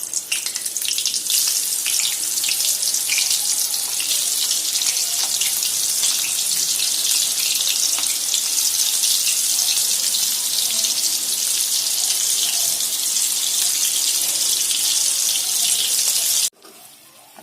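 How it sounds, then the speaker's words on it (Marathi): Stuffed bitter gourds fry in a pan of hot oil, a loud, steady hiss and sizzle that runs unbroken for most of the stretch and then cuts off abruptly near the end. "तेल गरम झाले, आपण एक एक कारल्याचं हे सोडूया।"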